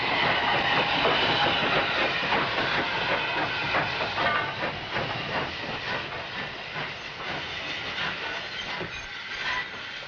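Railway train running along the line, a steady loud rushing hiss with rhythmic rolling clatter throughout, sustained at close range for about ten seconds.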